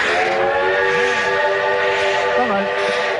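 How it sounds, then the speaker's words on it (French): A steam locomotive whistle sounds loud and continuous, a steady multi-tone blast filling the whole moment over a rushing hiss, with faint voice-like wavers beneath. "C'est le sifflet d'une machine à vapeur."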